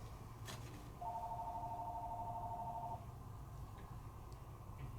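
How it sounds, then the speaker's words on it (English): A telephone rings once in an indoor craft room, a steady electronic two-tone trill lasting about two seconds over quiet background hiss. "Claire, somebody get the phone."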